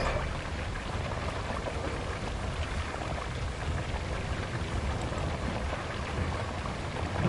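Steady rain pours down in the RoadCraft video game, a dense, even hiss of falling drops that holds unchanged throughout with no voices.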